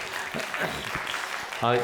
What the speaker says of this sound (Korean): 크게 박수 쳐주세요